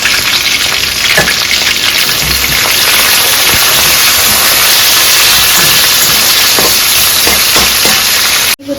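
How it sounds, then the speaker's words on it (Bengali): Sliced onions frying in a pan for a spicy crab curry, a loud continuous hissing sizzle close up with occasional stirring clicks, cutting off abruptly at the end. "পেঁয়াজ সেটা তো এগুলোকে ভেজে নিই"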